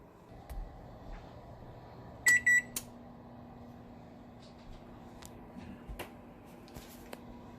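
A kitchen oven timer being set: a quick cluster of sharp electronic beeps with a few lighter clicks and taps around it, then a low steady hum as the oven runs in a quiet room.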